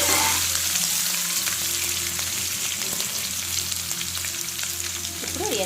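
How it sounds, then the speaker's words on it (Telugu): Potato and drumstick pieces fry in oil with ginger garlic paste for a vegetable pulusu, a steady close sizzle with occasional stirring scrapes and no talking. "అల్లం వెల్లిపాయ పేస్ట్ వేసుకొని కొంచెం అయిన తర్వాత ఈ ఆలుగడ్డ ముక్కలు, మునక్కాయ ముక్కలు వేసేసేయండి."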